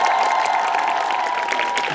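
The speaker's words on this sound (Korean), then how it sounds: "여러분께 다시 한번 박수 부탁드리겠습니다." Crowd applause and cheering at a sing-along musical performance in a theatre, with a sustained held tone running steadily beneath the clapping.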